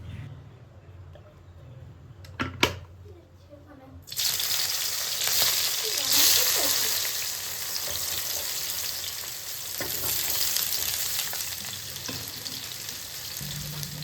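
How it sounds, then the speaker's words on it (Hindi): Raw sweet mango, tomato and onion sautéing in a pan: a few clatters and quiet moments, then a sudden loud, sustained sizzle that keeps going steadily to the end. "कच्चा मीठा आम, टमाटर और प्याज सभी को मैंने सौते होने के लिए रखा है।"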